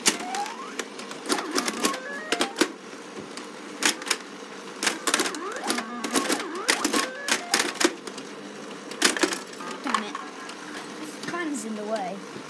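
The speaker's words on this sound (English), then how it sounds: "This is my pinball machine." An old pinball machine being played, with rapid clicks, bell-like dings and electronic chimes in irregular bursts throughout, close and fairly loud, while voices talk intermittently over the play.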